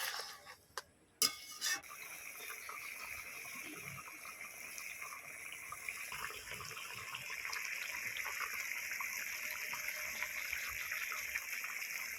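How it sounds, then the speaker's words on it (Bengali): Water streams steadily into a cooking pot while a mustard-poppy pointed gourd curry is being made. A couple of sharp clinks come first, then an even, close gush runs to the end with no talk. "আরও একটু জল আমার লাগবে আরও একটু জল দিয়ে দেব"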